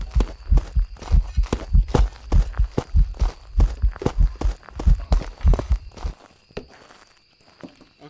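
A loud, close heartbeat thumps in a steady double-beat rhythm while a ghost is near in the Phasmophobia video game, going on for several seconds before fading to quiet.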